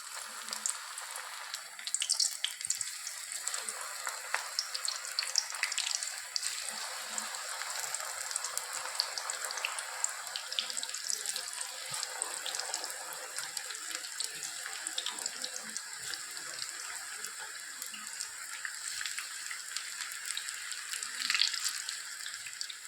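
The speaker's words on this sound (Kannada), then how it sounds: "ಕಲಸಿಟ್ಕೊಂಡಿರೋ ಅಂಥ ಬೋಂಡದ ಹಿಟ್ಟನ್ನ ಕಾದಿರೋ ಎಣ್ಣೆಗೆ ನಾನು ಸ್ವಲ್ಪ ಸ್ವಲ್ಪ ತಗೊಂಡು ಬಿಡ್ತಾ ಹೋಗ್ತೀನಿ" Dill-leaf bonda batter dropped bit by bit into hot oil, frying with a steady, dense crackling sizzle close by that continues without pause, no talking.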